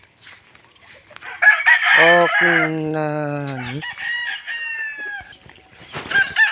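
A rooster crows once, a long, loud call close by, with chickens clucking and a voice speaking briefly around it.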